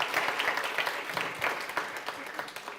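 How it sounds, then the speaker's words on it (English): An audience claps at a live podcast session for a media lab. The applause is steady and moderately close, with a few voices mixed in. "Let's clap for them as well."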